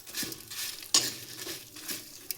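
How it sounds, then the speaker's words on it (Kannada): Radish frying in a pan for a tangy radish curry, a soft steady sizzle broken by a few sharp utensil scrapes and taps against the pan, close and quiet with no talk. "ನೋಡಿ ಇವಾಗ ಸ್ವಲ್ಪ ಫ್ರೈ ಆಗಿದೆ, ಇನ್ನೊಂದು ಸ್ವಲ್ಪ ಫ್ರೈ ಮಾಡ್ಕೊಳ್ಳುವ."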